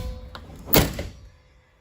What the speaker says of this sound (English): To do the hatch, you want to push the door open first